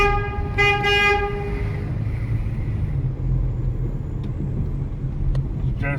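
A car horn honks twice in quick succession while the car crosses a little bridge on Miller's Creek road near the Kentucky River in Estill County, Kentucky. The honks are loud and close, followed by steady road and engine rumble.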